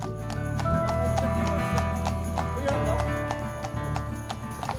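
Horses at Appleby Horse Fair make a busy run of hoof clip-clops on hard ground, with steady outdoor crowd noise and a low rumble underneath.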